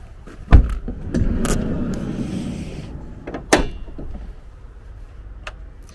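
Camper van doors, opening the living body and the vehicle cab separately: two sharp clunks about three seconds apart, with a rattling slide and rumble between them, close by and with no talking.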